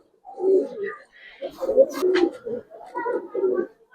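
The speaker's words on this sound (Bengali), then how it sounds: "এটা পাকিস্তানি কবুতর একদম র ব্রিড" Pakistani high flyer pigeons coo nearby in low, throaty, rolling phrases, several repeated calls with short pauses between them.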